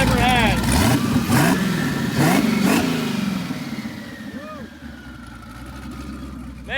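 A twin-turbo Camaro engine fitted with 2000cc injectors revs up and settles into a smooth idle, loud and close, with a voice speaking over it.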